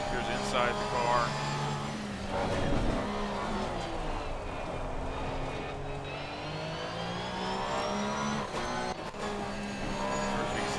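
A Porsche race car in Assetto Corsa Competizione, heard from the cockpit as its engine holds a steady high drone that swells and dips slightly with the revs, while a voice talks over it.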